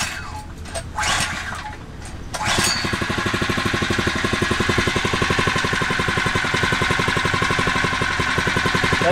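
A Phatmoto Rover 79cc four-stroke motorized bicycle engine is pull-started with a few rustling tugs, then catches and runs in a close, steady, rapid putter at idle.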